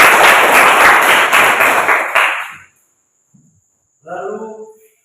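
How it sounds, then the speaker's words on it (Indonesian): A classroom of pupils claps together, a loud burst of dense applause lasting a couple of seconds that stops abruptly, followed by silence and then a short stretch of speech. "Oke, tepuk tangan."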